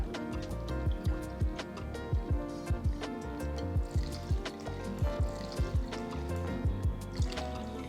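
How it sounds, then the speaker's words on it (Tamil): Water is poured from a cup into rice and dal in a pressure cooker for sambar rice, making quiet, repeated splashing and dripping bursts in an uneven rhythm up close, with no talking. "இப்போ இந்த கப்பில் நான் வந்து ஆறு கப்பளவுக்கு தண்ணி சேர்க்க போகிறேன்"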